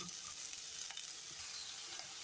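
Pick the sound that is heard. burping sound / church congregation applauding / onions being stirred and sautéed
onions being stirred and sautéed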